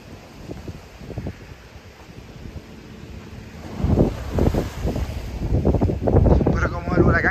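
Ocean waves from the remnants of Hurricane Beryl surge against the seawall at Guánica, Puerto Rico, building into louder crashing bursts over constant wind noise, with a voice speaking briefly.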